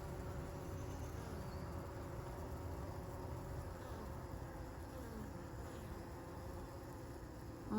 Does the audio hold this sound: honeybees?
yes